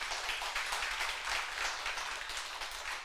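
A church congregation applauds during a 23rd-anniversary thanksgiving service in Busan, a dense, steady wash of many hands clapping at once that fills the whole stretch without letup.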